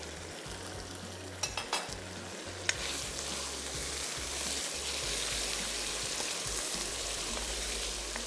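Masala frying steadily in a karahi pan while prawn karahi is made, a continuous close sizzle with a few sharp clinks of a utensil against the pan early on.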